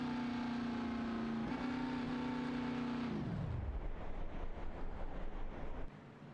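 A No. 4 race car at Daytona in a racing video game creeps along slowly behind the pace car, its engine a steady droning hum that sinks lower in pitch partway through, then rumbles on at low revs.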